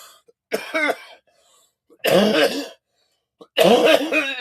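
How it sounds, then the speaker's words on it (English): Three separate bursts of harsh coughing, each a short cluster of hacking coughs, close and loud, separated by brief pauses of silence. "Oh man, welcome to the coughing show"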